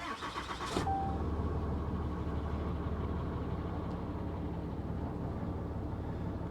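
A diesel pickup truck engine cranks briefly and fires after glow plug preheat, settling into a steady, low, clattering idle close by.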